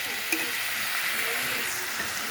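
Potatoes and vegetable stems sizzle steadily in a hot pan, a constant close frying hiss with a faint clink of stirring near the start.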